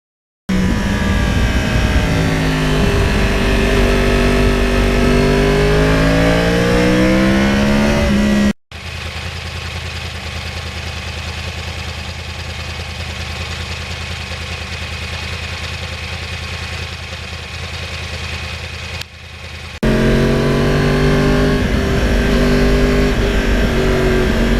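A 2020 Yamaha R1 crossplane sport bike on a ride, its engine droning loud and close with rising and falling revs, then a steadier muffled stretch of wind-swept engine noise before the revving returns.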